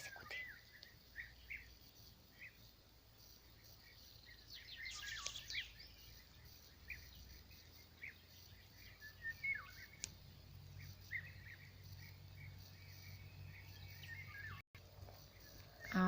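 Small birds chirp faintly in a quiet spring outdoor setting, with scattered short tweets over a soft background hum and a faint insect buzz.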